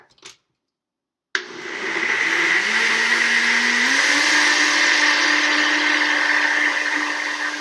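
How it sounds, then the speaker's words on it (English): A countertop blender starts after a short silence and runs steadily for about six seconds, blending an apple ginger smoothie with a loud, even whir whose motor pitch rises slightly partway through; no talking. "I'm going to use my blender"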